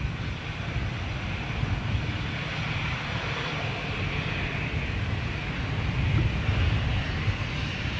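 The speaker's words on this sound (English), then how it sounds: "747 CF6 powered Virgin" A Virgin Boeing 747 with CF6 jet engines passes overhead as a continuous, heavy roar with a deep rumble. It stays fairly loud and steady throughout and builds slightly toward the end.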